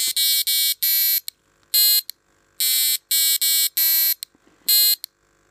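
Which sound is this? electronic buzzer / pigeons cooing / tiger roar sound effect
electronic buzzer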